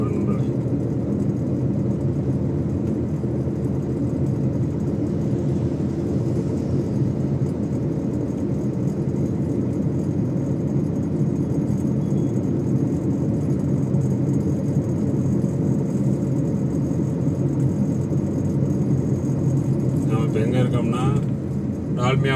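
A vehicle driving on the road out of Salem gives a steady, continuous low engine and road rumble from inside the cabin, unbroken throughout.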